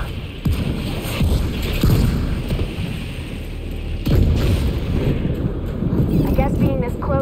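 Explosions rock a launcher in The Division 2 at Coney Island, with deep booms and rumbling blasts over wind-like noise, and sharp hits around a second and four seconds in while a voice talks throughout.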